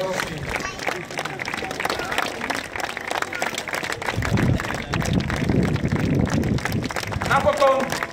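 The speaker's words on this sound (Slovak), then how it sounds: "Napokon váš potlesk patrí aj kráľovnej Barbore Cejelskej" An audience claps at a historical show at Červený Kameň castle, applause rising into a dense, sustained patter mixed with crowd murmur, while someone speaks over the applause.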